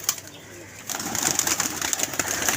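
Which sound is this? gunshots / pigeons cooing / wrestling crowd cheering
pigeons cooing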